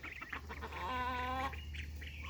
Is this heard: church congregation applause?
no